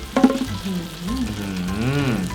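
Water poured into the middle of a hot grill pan while beef is grilling sizzles in a steady, close hiss as someone talks over it.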